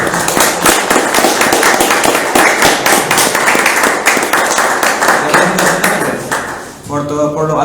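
Loud, dense applause from an audience honoring Paraguayan gold medalist athlete Rocío Viveros, sustained rapid clapping close by that fades near the end as voices begin.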